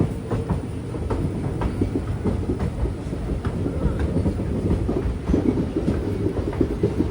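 The Kollam to Chennai Egmore Express rumbles into Aryankavu station with rhythmic clacking of wheels over rail joints, a steady heavy roll that stays fairly close throughout.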